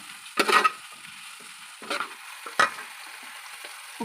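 Finely chopped onions sautéing in ghee and oil in an uruli, a low steady sizzle broken by three or four brief scraping stirs, close and moderately quiet.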